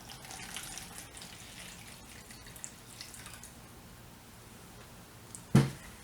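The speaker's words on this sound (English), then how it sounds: "go ahead and pour your water into your bowl." Water pours into a bowl as a faint, soft trickle over a quiet background, ending in a brief louder splash near the close.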